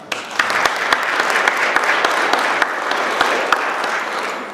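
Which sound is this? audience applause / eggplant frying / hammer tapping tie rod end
audience applause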